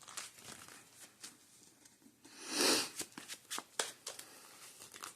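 Trading cards from a Yu-Gi-Oh Snake-eyes Lightsworn deck being shuffled by hand at close range, with a run of soft riffling flicks, one louder burst of shuffling in the middle and scattered card taps, and no talking.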